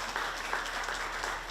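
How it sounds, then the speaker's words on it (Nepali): Audience applause fills a hall at a launch event for Ghanashyam Pathik's novel Yunika: steady, dense clapping from many hands throughout, with no talk over it. "घनश्यामलाई एकचोटि ताली बजाएर बधाई ज्ञापन गरिदिनु"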